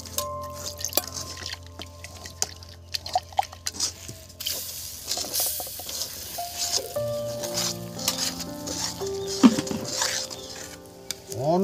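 Continuous stirring and scraping in a cooking pan while making dhokar dalna, a Bengali lentil-cake curry, with drips, soft liquid patter and pan clatter close by, steady and fairly quiet throughout.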